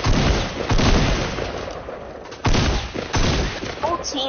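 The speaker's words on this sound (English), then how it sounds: "he's shooting grenades!" Grenades are launched and explode in a squad-based video game, producing loud booming blasts and rumbling gunfire in repeated bursts, with heavy low-end impacts and a brief whistle near the end.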